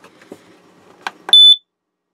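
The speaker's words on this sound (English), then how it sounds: "So you need to test this alarm every once in a while." A propane gas detector alarm, set off with its test button, gives a few faint clicks and then a single loud, piercing electronic beep lasting about a quarter second before cutting to silence.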